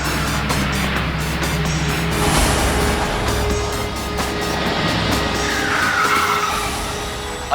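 A car brakes hard and skids to a stop in a Hindi crime drama scene, a loud, sustained rush of tyre and engine noise filling the whole stretch without talking.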